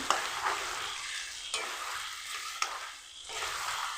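Chicken being stir-fried for a chicken and potato curry, a steady sizzle in the pan broken by a few spatula scrapes and stirs, fairly quiet and close.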